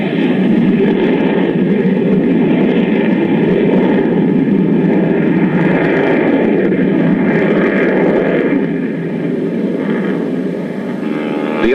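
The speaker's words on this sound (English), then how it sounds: "A beast with deadly grace, the Vulcan can reach almost the speed of sound." Avro Vulcan jet bomber flying at a 1966 air pageant for the Auckland Airport opening, a steady loud roar of jet engines lasting throughout and easing off slightly near the end, heard alone.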